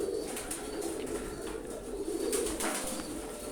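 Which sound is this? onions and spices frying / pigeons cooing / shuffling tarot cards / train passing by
pigeons cooing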